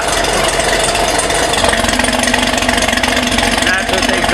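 A stock car idles with its dual-mode exhaust valves forced fully open, giving a loud, steady low rumble and burble up close while someone talks over it.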